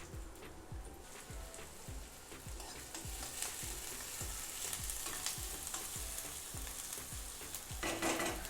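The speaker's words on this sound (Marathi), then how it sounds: "तेल तापलेलं आहे, तर आपण कांदा टाकूया." Onion sizzles and crackles steadily in hot oil in a kadhai, a continuous close frying hiss with regular scraping stirs that grows slightly louder toward the end.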